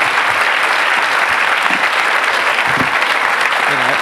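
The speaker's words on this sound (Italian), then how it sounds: "E farei un secondo applauso ad Eva" A literary festival audience claps loudly and continuously for a guest author, dense close applause filling the whole stretch with a few faint voices underneath.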